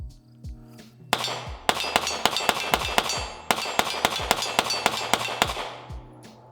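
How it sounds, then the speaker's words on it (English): A fast string of sharp pistol shots from an FN Reflex, about fifteen loud, close cracks with ringing metallic decays, fired in quick, steady succession with brief gaps. "15 shots, dropped the last one because it is a snappy gun"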